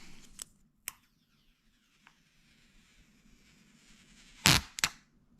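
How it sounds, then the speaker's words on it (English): Crinkly bursts of plastic protective film being peeled off a new Samsung Galaxy S23 Ultra, with a few small ticks and then two sharper, louder rips near the end, up close in a quiet room. "When you unbox phones, it's just a different thing to get off that plastic."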